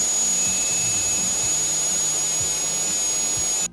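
Boluojun TF50A1 high-power turbo fan running steadily at its third speed setting, a loud continuous roaring whoosh with a high whine on top, close to the microphone and alone, cutting off abruptly at the end.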